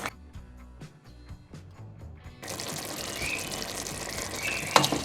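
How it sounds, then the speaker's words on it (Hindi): Ground onion goes into a hot pan for chicken korma, starting with soft scraping and stirring, then a sudden burst of loud, steady sizzling and frying with a few sharp clatters near the end. "अब हम पिसी हुई प्याज को शामिल करेंगे और इसे मिक्स कर लेंगे।"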